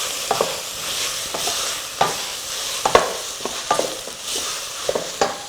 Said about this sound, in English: our onions are sauteing